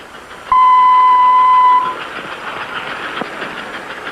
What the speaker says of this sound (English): Hear that diesel horn? That's built right into the locomotive, and we could make it blast just by pushing a button.